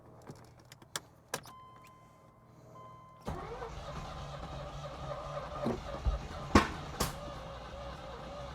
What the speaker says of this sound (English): So I definitely heard it trying to combust, trying to turn on.